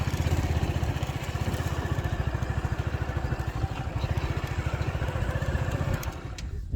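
Motorcycle ridden straight through crop fields toward a river in rural Pakistani village country, its engine loud and close with a steady rapid chug and clatter throughout, cutting out near the end.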